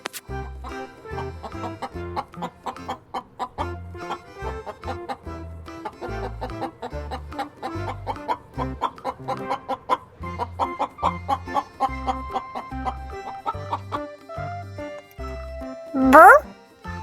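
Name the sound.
chicken clucking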